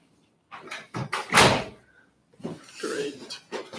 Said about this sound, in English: maybe close the door.